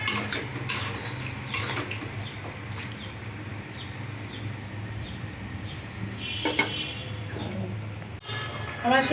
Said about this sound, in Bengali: আমি এখন সবজির মাঝে জল দিব।